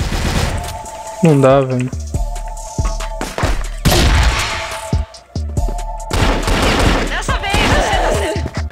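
Video game gunfire, a rapid clatter of shots and thuds in several bursts, loud and close, with someone talking over it and pausing between volleys.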